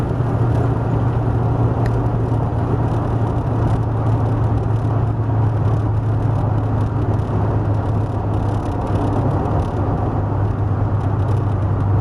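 A 1957 Porsche 356A cabriolet replica with a 170-horsepower engine cruising at speed in the country, giving a steady, unbroken engine drone and road and wind rush with a low hum underneath, loud and constant throughout.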